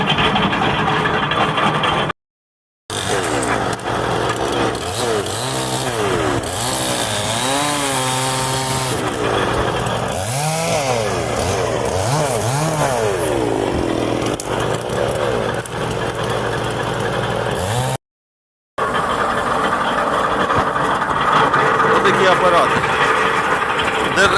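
An Arpal hydraulic branch chipper runs with a loud, steady engine drone, its pitch rising and falling as the load changes, close by, with a few brief breaks and no clear talking.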